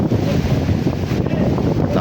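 Strong monsoon wind at sea buffets the microphone with a heavy, constant roar, and waves churn underneath, loud and unbroken for the whole moment.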